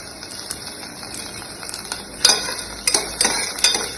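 Onion and curry leaves stirred in a pan for a white kurma, with a faint background sizzle broken by several sharp metallic scrapes and clinks of the spoon in the second half.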